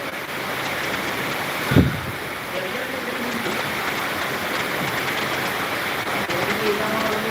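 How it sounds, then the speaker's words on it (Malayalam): Steady rain hiss fills the whole stretch, with one brief low thump near the start; no voices stand out. "മഴ ചെറുങ്ങനെ കുറഞ്ഞു"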